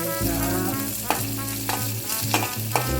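Loud, close sizzling and crackling of onions frying in a pan after cumin seeds, for spinach sambar, with occasional stirring scrapes and a low steady hum underneath.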